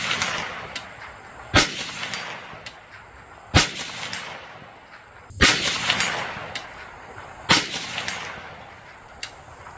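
Bear Creek Arsenal 20-inch stainless .22 WMR upper firing outdoors, four loud sharp shots spaced roughly two seconds apart, each with a brief echoing tail.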